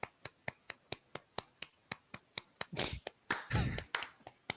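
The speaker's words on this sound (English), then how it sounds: "Can we get a round of applause for our guest speaker, please?" Steady clapping for a guest speaker at a small game-dev workshop: a regular beat of close single claps, with a brief burst of a few overlapping claps toward the end.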